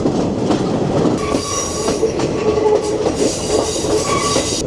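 Train running along a railway through tea country in Sri Lanka: close, loud rolling rumble with rhythmic wheel clacks and thin metallic squeals from the wheels, continuous throughout and with no talk.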